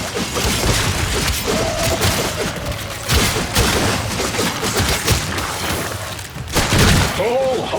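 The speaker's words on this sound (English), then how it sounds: "Hive located. Destroy it with weapon fire." Rapid weapon fire at a hive in the Warframe video game, dense repeated bursts and impacts running throughout at high loudness, mixed with game effects and an intermittent voice.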